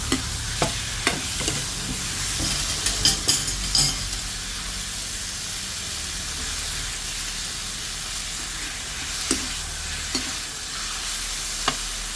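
Shrimp and kaffir lime leaves sizzle and hiss steadily in a hot wok for spicy drunken noodles, with scattered clinks and scrapes of a spatula stirring throughout.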